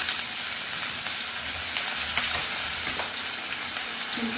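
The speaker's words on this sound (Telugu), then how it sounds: "ఒక స్పూన్ అల్లం వెల్లుల్లి పేస్ట్ వేసి" A spoonful of ginger garlic paste fries in hot oil for a prawn and drumstick curry, giving a loud, steady sizzle up close with occasional stirring scrapes.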